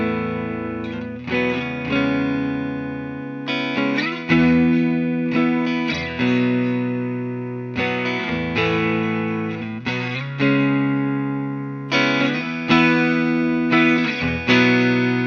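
An electric guitar on its neck pickup plays a warm, slightly driven chordal phrase with sustained strummed and picked chords, ringing out clean and close with no talk.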